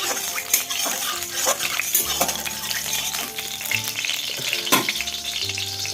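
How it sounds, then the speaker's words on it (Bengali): Sliced bitter gourd and potato fry in hot oil, a close, steady sizzle with occasional stirring and clinks of a utensil against the pan, no speech. "তেলটা আমার গরম হয়ে গেলে আমি উস্তে আর আলুটা দিয়ে দেবো"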